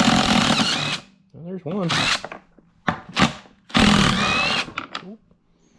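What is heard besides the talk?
nut driver removing rusty 12 millimeter bolts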